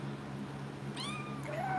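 A single drawn-out cat meow rising and falling, heard close over a steady low hum.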